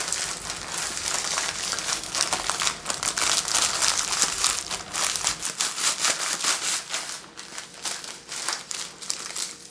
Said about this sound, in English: Ritz crackers are soft, they're easy to crush.